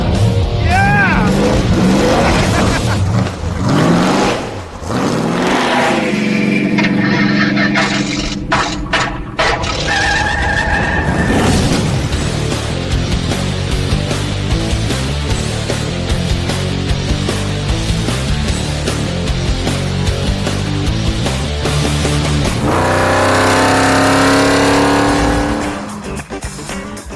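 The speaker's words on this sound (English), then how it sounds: "Ice drag racing." Cars drag racing on an ice track, loud engines revving and roaring with tire squeal and skidding, continuous and close throughout, with people talking and cheering over the noise.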